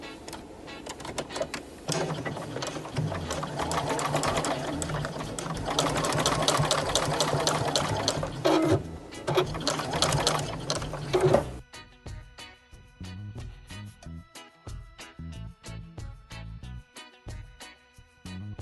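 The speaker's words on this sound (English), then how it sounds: "I'm going to finger press that open and top stitch that down" A sewing machine top-stitching denim patchwork pieces runs in a fast, loud, continuous whir for about eleven seconds, then drops to quieter, broken bursts of stitching and handling noise, with no voices.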